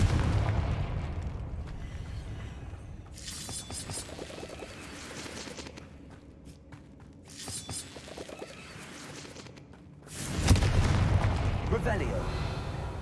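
Repeated Confringo spell blasts in Hogwarts Legacy erupt as several separate bursts spaced a few seconds apart, the last one loudest and longest, over low game ambience with no voices.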